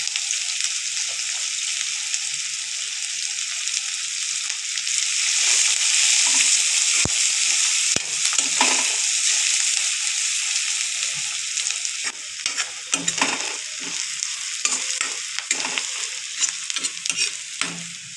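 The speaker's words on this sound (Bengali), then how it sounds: "পেঁয়াজগুলো অল্প ভাজা হয়ে গেছে" Chopped onions frying in a pan for a Bengali moong dal with fish head, stirred throughout with a steady, close sizzle and intermittent scraping strokes of the spoon, no voices.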